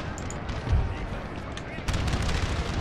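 Cannon and artillery fire from a Napoleonic-era battle in the strategy game Napoleon: Total War, with repeated booming shots and crackling gunfire over dense, continuous battle noise.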